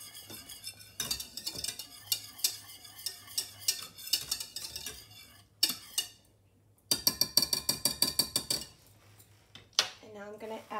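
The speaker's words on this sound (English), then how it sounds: "Stir that together." Mac and cheese being stirred in a pot, with a busy run of close spoon scrapes and clinks against metal, a few pauses between the bursts of stirring, and some quieter knocks near the end.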